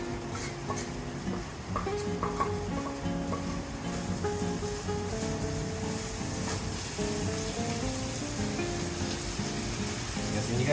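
Carbonara pasta sizzles softly in a pan while being stirred vigorously, with a steady low fry hiss under repeated scraping and clattering of utensil against the pan, and a tonal hum running through.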